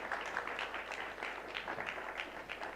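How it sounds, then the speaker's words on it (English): A group applauds steadily at an International Day of Peace event, a dense patter of many hands clapping at moderate volume, heard a little distantly. "Let's clap for them."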